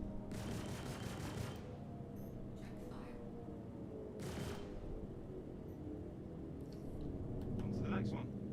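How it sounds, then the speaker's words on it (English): Gunfire in the Star Citizen video game, with a few short broadband bursts over a steady low hum and faint background voices, fairly close and moderately loud. "Let me just shoot this one."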